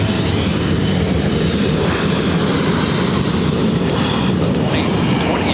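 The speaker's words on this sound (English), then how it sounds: "Up next, A320 heading to Mexico." A roaring Airbus A320 jet airliner at LAX makes a dense, sustained engine rumble close by, with a voice talking faintly under the noise.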